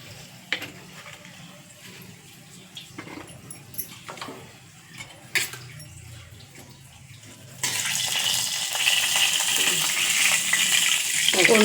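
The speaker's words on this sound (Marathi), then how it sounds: "फोडणीचा तुम्हाला आवाज येत असेल." Spices crackling in hot oil for a tempering, the sizzle swelling to a loud, steady hiss partway through after scattered clicks and taps.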